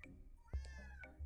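Pet cat meowing during a Minecraft stream, a couple of short, fairly faint mews with slight low background hum and no talk over them.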